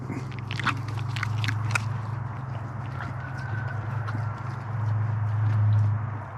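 A horse's crisp, crunchy bites and chewing of carrots up close, strongest early on, over a steady low hum with faint background noise.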